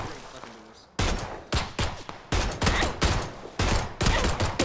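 A pistol firing in a video game, with a burst of sharp, close shots following one another in a quick uneven rhythm after a quieter moment, and voices faintly under the gunfire.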